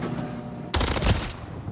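A short, loud burst of rapid gunfire in Call of Duty: Modern Warfare III ranked play, one sharp volley of several shots after a quieter moment of background game sound.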